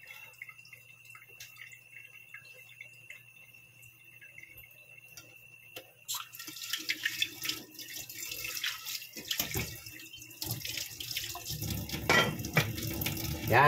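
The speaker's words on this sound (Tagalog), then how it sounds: "mainit na yung tubig" Tap water gushes into a cooking pot. A quiet stretch with faint dripping gives way midway to a loud, steady rush of running water that grows fuller and louder toward the end.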